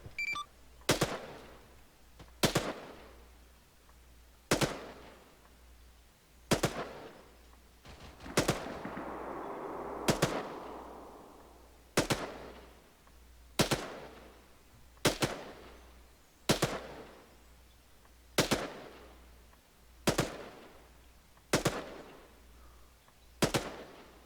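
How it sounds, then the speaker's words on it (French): Evenly spaced single gunshots during combat in the military simulation game ArmA 3, sharp distant cracks roughly every second and a half over a low steady rumble. "Ouais, on s'est fait engager, Dartan est à terre."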